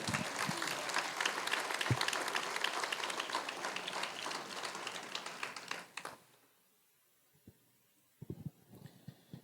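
Church congregation claps for about six seconds, a dense steady wash of applause that cuts off abruptly, followed by near silence with a few faint scattered knocks and shuffles.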